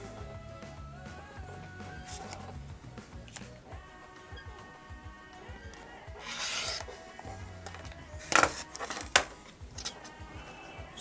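A blade cuts through quilt fabric in short rasping strokes, close and moderately quiet, over a faint background hum, with two sharper scraping bursts near the end.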